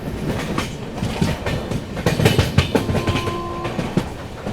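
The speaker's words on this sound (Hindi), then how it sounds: "ट्रेन अपनी स्किप कर रही है मनवाल" The Shri Shakti AC SF Express runs past Manwal station, loud and close, with steady wheel clatter and rumble throughout and a faint horn tone near the end.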